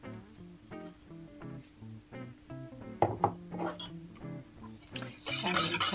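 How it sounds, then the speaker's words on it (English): Spoon stirring white sugar and a pinch of salt into crepe batter in a bowl, with repeated clinks and scrapes against the bowl over a steady tonal background, growing busier and louder toward the end. "And just kind of stir this together to make sure there are no lumps."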